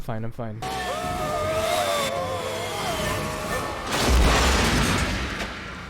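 Explosions from the film Small Soldiers, heard as a sustained blast with a louder boom near the end under a music score, and voices talking briefly at the start.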